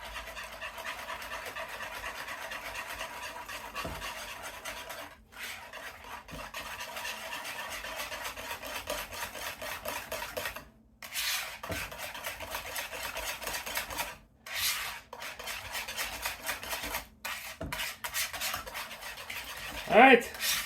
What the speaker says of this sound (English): now we're just going to bring it together with the whisk